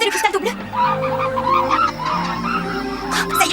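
Cartoon birds squawk and honk in a noisy overlapping flock, loud and close, with a voice briefly mixed in among the calls.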